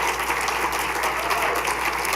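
An audience at a school district board of education meeting claps steadily for a recognized nutrition services worker, a continuous even patter of applause from a room of people with no talk over it.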